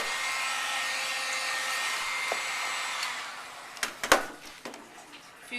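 A heat gun shrinks plastic wrap around an Easter basket, blowing with a steady, close whooshing roar for about three seconds. It then cuts out, followed by a few sharp crinkles and taps as the wrap is handled.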